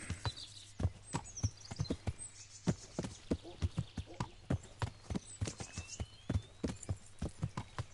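Horse hooves cantering along a country road in the medieval Bohemian open-world game Kingdom Come Deliverance: a steady rolling clip-clop of about three beats per second, close and clear, with faint birdsong above and no talk.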